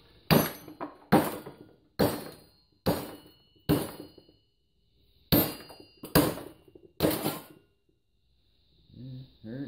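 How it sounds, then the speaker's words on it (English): Eight loud, sharp hammer blows on metal held in a vise, knocking out copper plugs from heat sinks, struck in uneven pairs and singles with short pauses between, then a brief low mechanical rumble at the end. "I'm going to lock it in the vise and smack it with a big old hammer"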